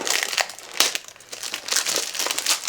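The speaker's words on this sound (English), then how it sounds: "I am not the nicest with unwrapping things." Crinkly plastic or paper wrapping being torn and unwrapped from a package, a steady run of close, busy crackles and crumples with a few sharper snaps, no talk over it.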